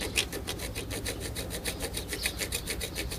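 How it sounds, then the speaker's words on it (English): A hand saw cuts into an arrow shaft in steady back-and-forth rasping strokes, close and fairly loud, with no voices. "And we start sawing here."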